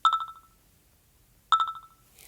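Apple iPhone 'Bamboo' alert tone plays twice, each a quick cluster of bright, hollow, woody plinks that decay fast, separated by about a second and a half of near silence.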